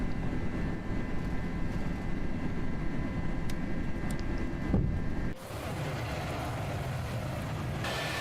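Airbus A319 climbing after takeoff from São Paulo on a rainy night, a steady loud cabin roar of engines and airflow that drops abruptly to a quieter hum partway through, heard from inside with no talking.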